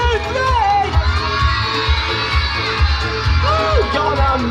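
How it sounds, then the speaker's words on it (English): Children and an audience at a Paultons Park summer show shouting together for a character, a loud, sustained crowd of young voices yelling and cheering in rhythmic bursts. "we're all going to shout for Bob"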